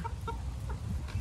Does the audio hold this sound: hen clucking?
yes